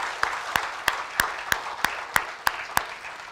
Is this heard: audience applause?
yes